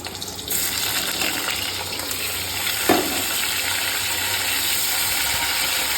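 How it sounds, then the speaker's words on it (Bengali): Cauliflower pieces dropped into hot oil set off an abrupt, steady close sizzle and bubbling fry, with a light knock of a utensil midway, no talking. "তেলটা আমার গরম হয়ে গেছে। এবার ফুলকপিগুলো আমি দিয়ে দেবো।"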